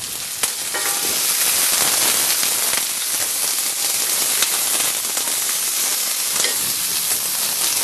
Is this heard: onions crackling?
yes